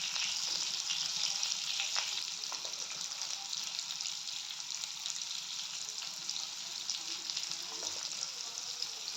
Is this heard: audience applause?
no